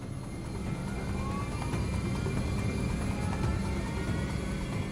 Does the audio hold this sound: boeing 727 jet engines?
yes